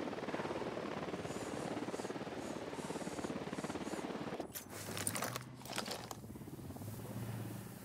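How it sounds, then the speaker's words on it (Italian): Patrol helicopter in a Ghost Recon video game set in Bolivia, a steady, loud rotor thump throughout with a few sharp bursts and clatter partway through. "Elicottero Unidad di pattuglia,"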